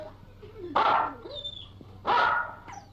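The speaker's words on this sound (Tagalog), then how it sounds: "Ang laking aso nito!" A big dog barks twice, loud and close, with heavy gruff woofs separated by a pause, while a person's voice and low whining sounds come through between the barks.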